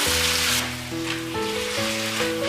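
Hakka radish with red yeast rice stir-fried in a wok, a steady dense sizzle with soft scraping of stirring under a faint background tone.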